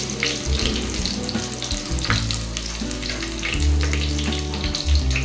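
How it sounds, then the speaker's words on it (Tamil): Curry leaves and fenugreek seeds hitting hot oil for a village-style fish curry, a loud, close, continuous spitting sizzle with bursts of popping and crackle. "இப்போ நம்ம கொஞ்சம் கருவேப்பிலை சேர்த்துக்கணும்."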